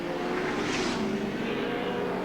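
Touring car race at Lakeside circuit, BMWs among the field, heard as a steady, loud engine roar with a rising whine that swells briefly as cars pass, no talk over it.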